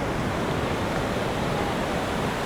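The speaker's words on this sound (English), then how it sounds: "Oh, the water's coming closer." Ocean waves wash up a beach in Essaouira, Morocco, a steady broadband rush of surf close by with no voices over it.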